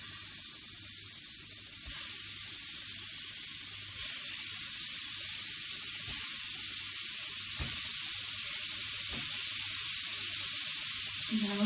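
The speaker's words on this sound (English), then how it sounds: "rosemary lamb koftas ready to go in the frying pan." Rosemary lamb koftas cook in a hot, oil-free frying pan, giving a continuous bright sizzling hiss with faint pops and occasional soft clatter, steady and close with no talking.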